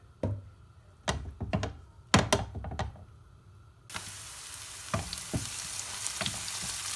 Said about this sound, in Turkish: Onları sıvı yağla birlikte biraz kavuracağım.